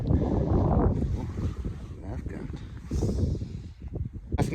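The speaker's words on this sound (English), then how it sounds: "it was a wet, windy night" Steady wind roars and buffets outdoors at a wild camp in Caldbeck on a wet night, with gusty surges and rumbling low noise throughout, loud and close to the microphone.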